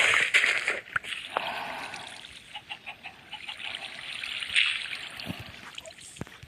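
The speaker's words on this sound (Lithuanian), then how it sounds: "Ir reikia patikrinti, ar vanduo leidžiasi žemyn" Water flowing down through blocks in Minecraft, a soft trickling and sloshing stream that runs quietly throughout with faint clicks and game noises.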